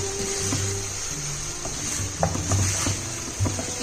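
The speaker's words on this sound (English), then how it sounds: "Now I'm going to give this a nice mix again." A tomato and onion mixture is stirred in a pan with salt, giving soft scraping and light sizzling, with a few louder knocks of the utensil against the pan over steady background noise.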